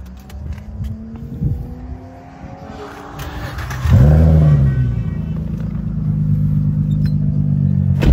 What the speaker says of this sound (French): Fais-nous écouter un petit peu le V6.